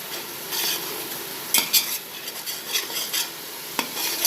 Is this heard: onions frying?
yes